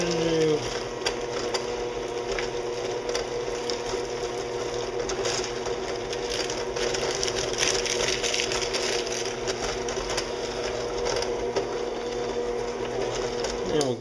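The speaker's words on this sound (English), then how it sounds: "we'll go ahead and kill our mixer here" An electric stand mixer churns chocolate chip cookie dough with a steady mechanical whir and rattle that runs unbroken at close range, with no talking over it.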